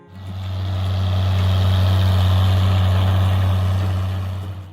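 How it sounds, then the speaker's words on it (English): A six-cylinder Oliver 77 tractor engine runs steadily at a constant idle, a loud, deep, even drone with no talking. "Then there's the 6-cylinder engine,"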